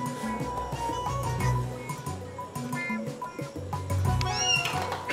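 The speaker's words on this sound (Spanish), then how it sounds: "Chillan los gatos." Cats meow repeatedly, several drawn-out cries coming close together at moderate volume, with no talk over them.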